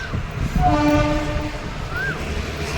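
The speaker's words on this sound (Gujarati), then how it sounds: "ટ્રેન જાય છે પણ છે ને" A train rumbles past in Delhi with steady low clatter, and a sustained horn sounds for a couple of seconds, with traffic-like noise underneath.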